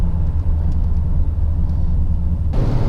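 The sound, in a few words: 1974 Corvette L82 engine running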